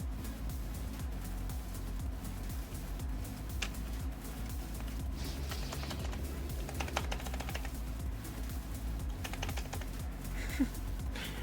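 Keys on a Commodore C64 with a replacement keyboard clicking in a steady run of light taps, fairly faint and close, with no talk over them.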